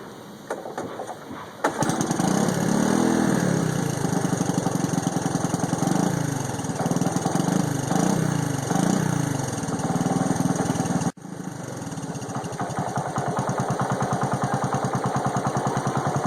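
The small engine of a 1984 Honda ATC 125M three-wheeler, ice cold, is pulled and catches on the first try, then settles into a steady, loud idle with a brief dip partway through.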